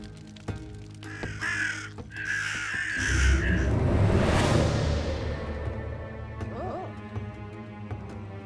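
In the gothic RPG Drova: Forsaken Kin, a raven caws several times over a dark ambient backdrop, followed by a rising whoosh and rumble.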